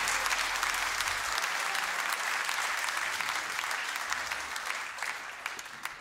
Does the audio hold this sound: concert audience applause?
yes